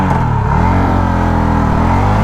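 A motorcycle, either a 2024 Honda CB300F or a Bajaj Pulsar N250, pulls away in first gear with a steady, loud engine drone close by and a low rumble throughout, without talk.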